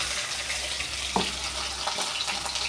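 Taro sizzles as it sautés in a pan, giving a steady close hiss and crackle with a few soft clinks of stirring and no talking.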